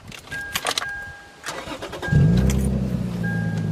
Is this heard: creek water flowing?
no